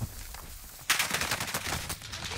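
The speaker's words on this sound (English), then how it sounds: "I'm getting shot by all angles" Rapid automatic gunfire in a video game shooter bursts in after a quiet second and keeps rattling in dense, loud volleys from close by, with no one talking over it.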